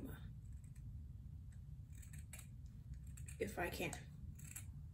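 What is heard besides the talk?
scissors cutting a Puma sock to make a mask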